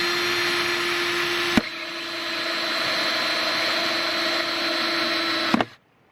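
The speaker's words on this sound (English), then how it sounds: "So what I'm going to do with this bucket is use a hole saw" Power drill with a hole saw cutting through a plastic bucket, a loud steady whirring grind with sharp clicks at start and finish, stopping abruptly into quiet.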